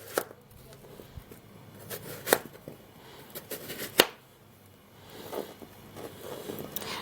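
A knife cuts through a watermelon in several separate chopping strokes with sharp crisp impacts and softer scraping between them, close and without speech.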